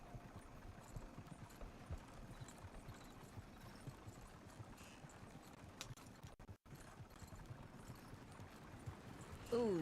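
Horse hooves clip-clop steadily on a road in the video game Red Dead, a continuous rhythmic patter at moderate distance with a brief dropout near the end.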